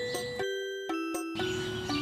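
A Minecraft bell rings with clear, sustained tonal chimes, struck a few times in quick succession, each ring cutting in and lingering briefly over a soft game background.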